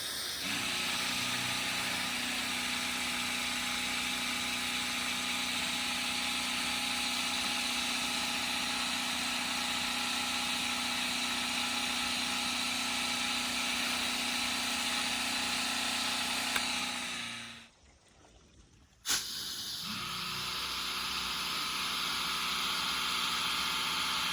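An X6 pressure washer blasts a house roof from the ground with a loud, steady roaring spray. It cuts out briefly near the end, then starts up again, and nobody talks.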